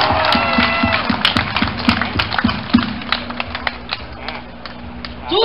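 Crowd at an outdoor protest march of military, civil servants, teachers, labour, police and firefighters in Taiwan breaks into scattered clapping and cheering, sharp irregular claps across the crowd with a steady murmur beneath.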